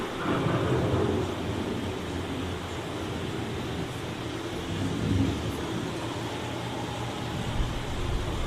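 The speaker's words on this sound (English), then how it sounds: "The approaching storm may seem violent and destructive to us" A thunderstorm rumbles on a dark-ride boat attraction at Epcot, Walt Disney World. A dense, steady roar of low rumbling and hissing, like rain, runs throughout with slight swells and no talk.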